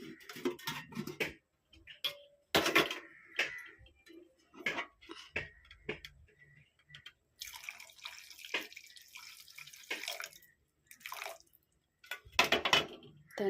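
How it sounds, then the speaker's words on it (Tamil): Water pours into tamarind water in a cooking pot for fenugreek curry, heard close up as irregular splashes and drips separated by quiet gaps. "தண்ணி சேர்த்தாச்சு."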